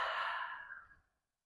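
A long, airy exhale during yogic breathing, close and soft, fading out smoothly over about a second into silence.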